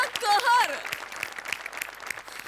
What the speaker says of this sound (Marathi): अशा टाळ्या वाजवायच्या.